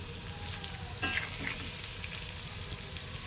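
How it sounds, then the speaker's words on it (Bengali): Potatoes and onions frying in a pan for egg curry, a soft, steady sizzle with a faint clink and some light stirring near the start, quiet and without talk. "আলু পেঁয়াজ ভাজা হচ্ছে"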